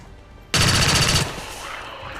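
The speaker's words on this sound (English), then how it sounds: "Same chance to shoot with everything, so we might as well use our pistol here." A pistol shot from the XCOM 2 video game, fired at Lost enemies: one sharp, loud burst with a short crackling tail that fades into a quieter game ambience.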